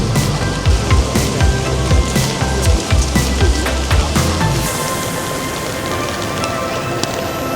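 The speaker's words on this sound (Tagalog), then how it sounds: "Masarap pakinggan ang tunog ng, ng ulan." Rain falling near Akihabara Station in Tokyo, a steady loud patter and hiss with rhythmic low thumps in the first half, then a smoother even downpour.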